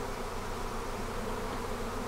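A swarm of honey bees that has flown out of its hive, a dense, continuous buzzing hum from many bees at once, even in level and close, with no voices.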